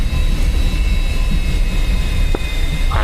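Steady, loud jet engine drone with a high whine as a plane taxis in the DCS World flight sim during a Six Day War campaign, constant throughout with a brief sharper sound near the end.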